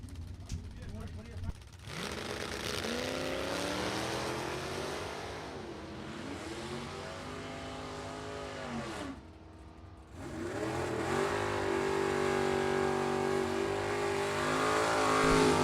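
A Firebird and a 1965 Mustang launch off the line in a drag race, engines roaring loudly and climbing through the gears. Pitch rises, drops at each shift and rises again, with an announcer talking over the noise.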